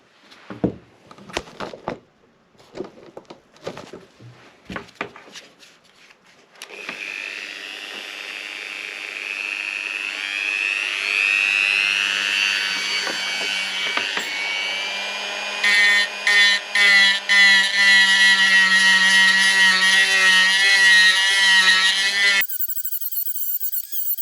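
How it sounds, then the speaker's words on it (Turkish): A high-pitched Dremel rotary tool whines steadily for a long stretch, its pitch shifting as it trims plastic on a helmet camera mount, after a few scattered clicks and handling noises. "Fazlalıklarını Dremelle alacağım."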